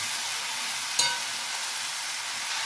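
Pui-mituli curry being stirred and fried in a pan, a steady soft sizzle with a single brief utensil clink near the start, fairly quiet and without speech.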